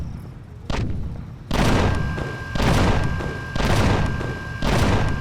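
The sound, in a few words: flak cannons firing in Empyrion Galactic Survival, from a video game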